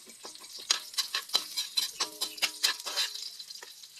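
Onions stir-fried in a pan after garlic has turned golden brown for a mung bean dish, bursts of crackling sizzle and rapid spatula scrapes in quick clusters, close and fairly quiet.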